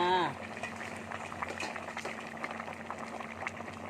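Bamboo shoot curry made with hill-grown bamboo shoots boils hard in a pot, a steady bubbling that runs throughout after a short burst of a woman's speech at the start.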